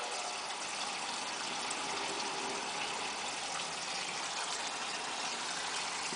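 Water gushes steadily from a fully open garden hose, heard from inside a house as a continuous, even broadband rush with a faint low rumble beneath it and no talking.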